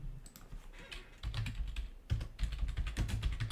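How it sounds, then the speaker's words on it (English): Rapid clattering keystrokes on a computer keyboard, close and fairly loud, coming in uneven bursts with short pauses between runs of typing, with no voices. "let's say if I'm typing here"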